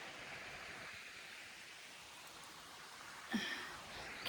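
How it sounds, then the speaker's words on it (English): River water flows at a distance near the Nolichucky River crossing on the Appalachian Trail, a faint, steady hiss of current with one brief louder rustle partway through. "You hear that water?"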